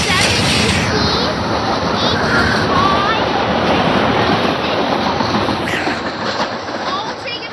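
Silverliner 5 rail cars roll out of Fern Rock station with a continuous heavy rumble and rhythmic clatter of wheels over track, loud and close, with voices faintly audible beneath.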